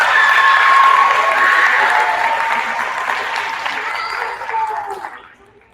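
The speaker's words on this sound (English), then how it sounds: "Give them a round of applause." An audience at a fifth-grade school awards assembly claps, loud sustained applause that swells early, then gradually thins out and stops, with a few voices mixed into it.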